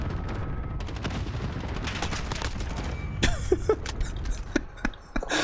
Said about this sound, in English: I'm shooting him. I'm shooting him. Look, I'm shooting him.